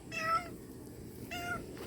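A black cat meowing nearby in a garden, two distinct meows separated by a short pause, clear and moderately loud.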